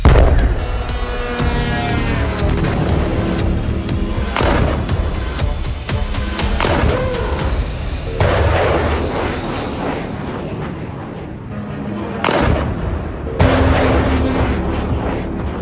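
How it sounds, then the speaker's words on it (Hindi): American missiles strike the IRGC headquarters in Iran, producing a dense run of loud, booming explosions and rumbling blasts with sharp cracks, continuous and close throughout. "अमेरिका की मिसाइलों ने ईरान के IRGC हेडक्वार्टर को धमाके में उड़ा दिया।"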